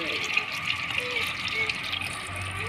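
Tap water runs steadily into a pond, a continuous close splashing hiss with no speech.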